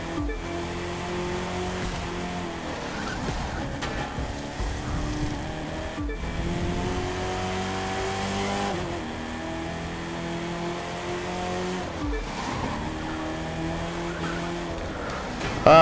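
Ford Mustang racing in The Crew 2, a continuous engine roar that rises and falls with shifts and revs, with tire squeal and skidding through the turns.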